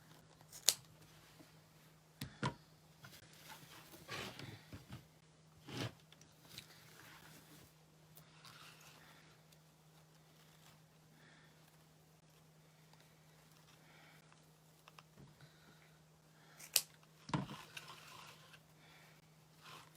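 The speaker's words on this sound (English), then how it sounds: "So I'm going to cut some extra tails." Scissors snip off extra tails in a few sharp, separate cuts spaced across a quiet room, with faint handling rustles between them.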